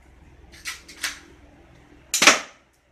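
A Beretta M92 airsoft pistol fires test shots: two quick light snaps, then a sharper, louder crack near the end, close up in an otherwise quiet space.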